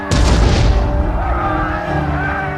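Cannon fire at a Napoleonic-era battle reenactment: one loud, close boom that rolls out into a long, rumbling echo and fades over a couple of seconds.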